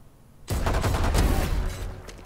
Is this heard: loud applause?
no